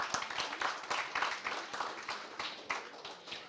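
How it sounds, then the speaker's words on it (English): Audience applause at a police recognition ceremony luncheon, a soft, fairly distant patter of many hands clapping with irregular accents throughout. "Give him a round of applause."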